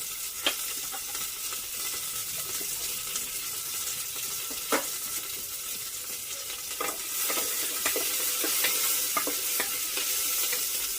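Dried shrimp and chopped onions fry with a pinch of turmeric in a pan, giving a steady sizzle for the whole stretch with scattered clicks of a spoon scraping and stirring, growing slightly louder toward the end.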